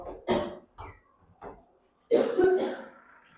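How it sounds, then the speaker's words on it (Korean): Someone coughs in a few short, separate bursts, then gives a longer, harsher cough near the end, close and clear in a quiet room. "계속 콜록되니까"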